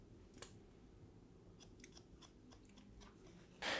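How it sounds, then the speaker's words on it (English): Scissors snip through curly hair during a men's medium-length wavy haircut, framing the face; a string of crisp, close, fairly soft snips spaced irregularly, ending in a brief louder burst. "I'm going to cut this through here a little bit just to sort of frame that face a bit more with them curls"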